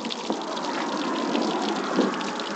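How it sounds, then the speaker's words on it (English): Water trickles out after being turned on, a steady close rushing hiss with soft splashy surges and no talk. "Yeah, a little bit of water is coming out."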